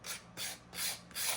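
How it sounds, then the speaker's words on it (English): Sandpaper rasps along the edges of an altered paper playing card in four short, even back-and-forth strokes, close and fairly quiet, with no talking. "That sandpaper is going to take off those edges."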